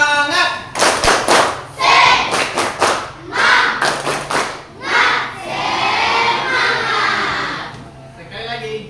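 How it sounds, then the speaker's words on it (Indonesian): A class of students performing rhythmic spirit clapping in a religious education lesson, sharp patterned claps in quick bursts alternating with children's chanting voices, loud and close. "mari kita tepuk semangat dulu. Ayo. Tepuk semangat."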